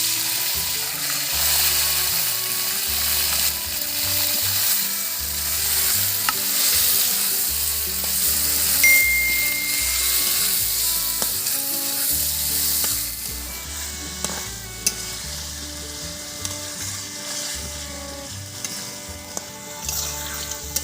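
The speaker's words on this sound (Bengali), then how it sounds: "এবার ম্যারিনেশন করা মাংসটা দিয়ে দেব।" Marinated chicken for a Kolkata Golbari-style kosha sizzles loudly in a hot pan over caramelized sugar, a steady close frying hiss with occasional stirring clinks.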